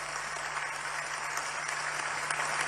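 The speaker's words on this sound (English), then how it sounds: "Shall we give our national chairman another round of applause?" Audience applause for a national chairman at a gathering, a steady wash of clapping heard faintly and at a distance throughout, with a constant electrical hum beneath it.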